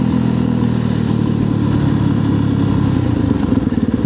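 A dual-sport motorcycle engine drones steadily while riding on a street, loud and close, with a low rumbling tone that roughens and pulses near the end as the throttle changes.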